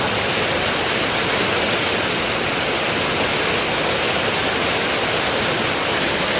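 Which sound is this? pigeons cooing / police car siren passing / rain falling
rain falling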